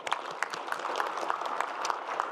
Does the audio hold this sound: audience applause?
yes